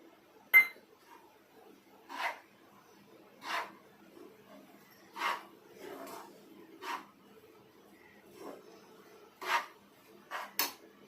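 Milk powder being mixed into a coconut burfi mixture in a bowl: a spoon clinks against the bowl about nine times in an irregular rhythm, with soft scraping between strokes, close and moderately loud.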